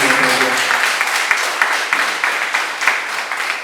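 An audience applauds make-up artists at an African make-up competition, a dense, steady patter of many hands clapping at close range, with a voice briefly audible at the start.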